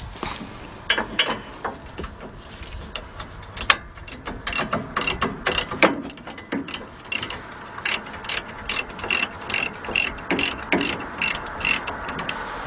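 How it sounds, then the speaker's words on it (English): A half-inch drive ratchet tightens a 21 mm bolt on the front brakes of a 2000 Dodge Ram 1500 van, clicking in quick, close bursts of pawl ticks separated by short pauses between strokes. "21 millimeter half inch drive with a half inch drive ratchet."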